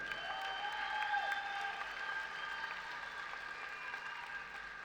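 Sustained crowd applause follows a Muay Thai bout at a combat sports gala, a steady wash of clapping with a faint whistle or tone running over it.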